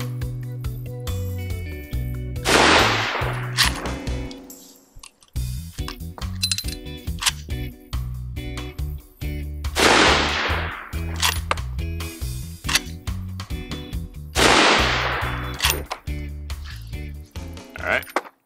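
Henry Long Ranger .308 lever-action rifle fired outdoors in strong wind, three loud shots each followed by the metallic clack of the lever cycling and ejecting the case, spaced about six seconds apart.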